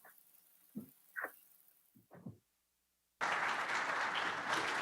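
Dense, steady applause from an audience at a water safety summit opening plenary rises abruptly after a few short spoken words, then fills the rest as a loud, continuous wash of clapping.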